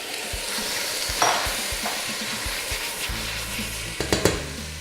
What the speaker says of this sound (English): we just let the bones start to sweat just for a minute or so